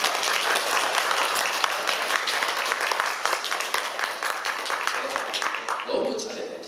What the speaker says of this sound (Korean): 우리 찬미한테 박수 한번.